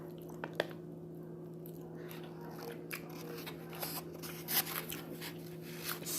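Close, quiet chewing of beans, with soft wet squishes and crunchy bites scattered irregularly over a faint steady hum, and no speech.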